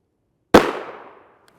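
A single 5.7x28mm Fiocchi 62gr FMJ round fires with a sharp, loud crack, followed by a decaying echo that fades over about half a second, alone without talk.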